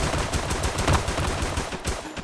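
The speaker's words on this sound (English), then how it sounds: "I'm gonna only go with a few revolver bullets for this one" Revolver gunshots in the Roblox video game, aimed at a player-built house with a destruction module: a dense, continuous volley of loud, sharp shots piling up without a break.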